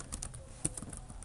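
Quiet typing on a computer keyboard while writing PHP code, a short run of soft, irregular key clicks with no speech.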